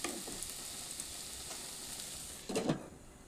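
Papaya sandwich filling sizzles steadily in a pan, with a brief burst of spoon-on-pan stirring scrapes near the end; no voices.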